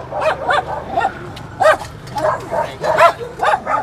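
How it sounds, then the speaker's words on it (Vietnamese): An old dog gives a run of short, loud barks and yips close by, in a fairly regular rhythm, with people talking in the background between barks. "Dễ thương cái chó già đàng hoàng."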